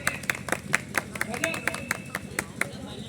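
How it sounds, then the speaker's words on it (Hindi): An audience at a Hindi poetry recital claps together in a steady, evenly spaced rhythm of sharp, close claps, roughly four per second. "एक बार तालियां हो जाए जरा हाथ उठा के।"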